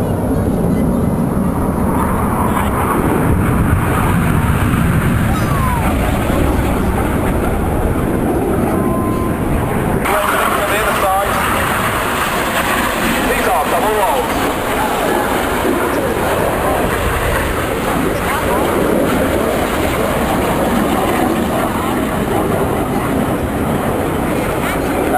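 Display jets at the Eastbourne airshow roar loudly and continuously overhead as the formation splits apart right in front of the crowd, a broad sustained engine rumble swelling and shifting across the sky.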